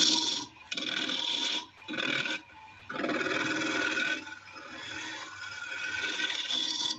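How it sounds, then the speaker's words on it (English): Wood on a lathe is cut to form a tenon for the chuck on a thin-walled turned vessel, giving close rough scraping and rasping passes that start and stop in several bursts, then a longer steady cut. "Now I'll just cut the tenon for the chuck."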